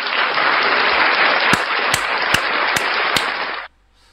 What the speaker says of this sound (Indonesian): Tepuk tangan dulu, Res.